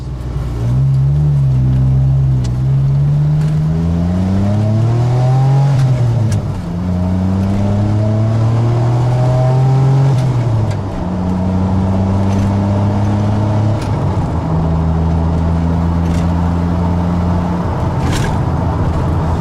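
A 1981 DeLorean DMC-12 with its rear-mounted engine accelerates through the gears, loud and close, the engine note climbing in pitch several times and dropping at each upshift, with a steady drone between.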